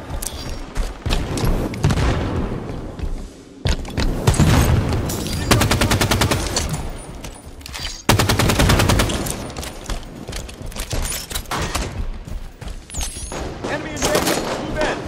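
Dense, continuous gunfire from Halo 5 multiplayer, loud rapid bursts and booms layered with game audio and radio-style voice callouts throughout.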